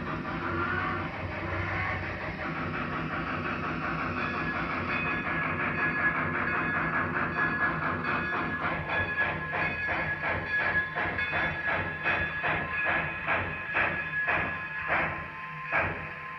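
Model railroad locomotive running on track, a steady motor whir with light rhythmic clicking of wheels over rail joints that grows more distinct and regular as it moves, close and moderately quiet with no talk.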